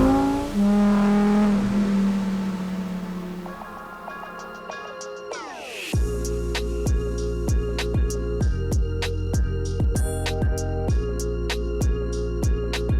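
A Lamborghini Huracan STO engine starts with a rising rev, then settles into a loud, rapid, steady idle with sharp repeating pulses, close and powerful, with no talking.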